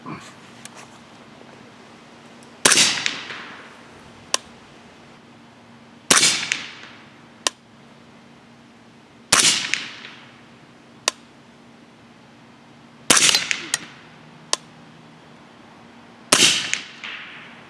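Five loud, sharp reports from a 300 Blackout rifle firing 208gr Hornady Match BTHP handloads, spaced a few seconds apart with ringing decay, plus fainter clicks of the action between shots.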